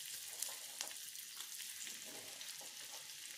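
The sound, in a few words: onion frying in oil and butter on a tawa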